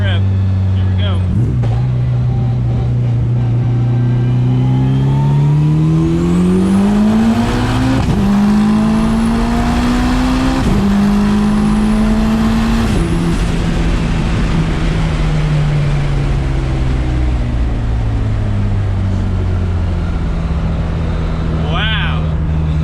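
An 800 hp 1995 Mitsubishi Eclipse GSX accelerating hard from inside the cabin, engine note climbing loudly through several gears with sharp shift breaks, continuous and close, with people talking over it.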